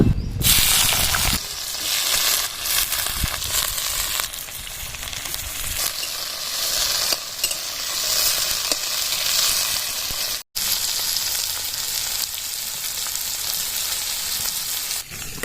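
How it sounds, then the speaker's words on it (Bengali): Bitter gourd pieces fry in oil in a wok, producing a loud, dense, continuous sizzle up close with faint stirring scrapes, broken once by a momentary drop. "আর একটু তেল কড়াইতে দিয়ে দিচ্ছি তেলের মধ্যে এবার উচ্ছেগুলো ছেড়ে দেব"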